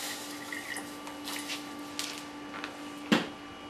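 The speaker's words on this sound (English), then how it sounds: "we can put it in the pan, a little bit of water" A little water trickles into a pan with hard Italian licorice for licorice gelato, giving sparse quiet drips and splashes with one sharper splash near the end, over a faint steady hum.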